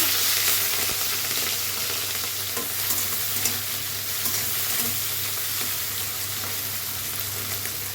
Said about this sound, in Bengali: সর্ষের তেল দিচ্ছি চিংড়ি মাছ ভেজে নিচ্ছি